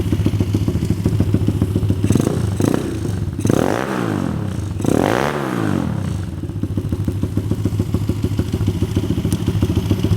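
A Honda CRF50 pit bike engine runs loud and close in a workshop, a rapid steady thrum with two swelling revs near the middle and some clatter, no talk over it.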